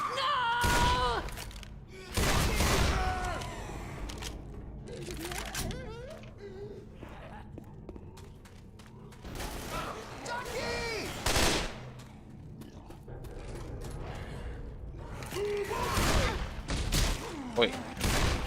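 Bursts of gunfire in a video game, several sharp volleys and single shots spread across the stretch, with a voice calling out between them.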